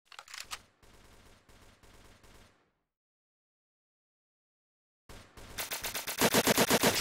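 Rapid video-game gunfire from a Hex competitive match with headshot kills, heard as a burst of shots, a clear pause of silence, then a louder run of evenly spaced, punchy shots close up.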